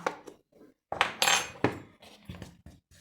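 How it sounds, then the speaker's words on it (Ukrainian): A spoon scrapes and clinks against a bowl while an egg and salt are mixed into flour for a potato and cheese vareniky dough. Irregular knocks and scrapes come in short close bursts with brief pauses between them. "Все гарно так змішуємо всередині, поки ложечкою."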